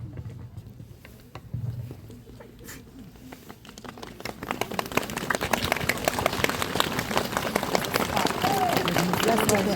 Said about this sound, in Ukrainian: Аплодуйте гучніше, ви і собі аплодуєте кожному з вас